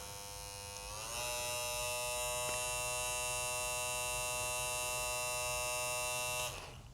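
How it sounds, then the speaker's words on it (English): TPOB Go hair clipper switched on and running at high speed, a steady close electric buzz with a bright whining tone that starts up after a second, holds evenly, then cuts off. "67 decibels on the high speed. So not a very loud clipper."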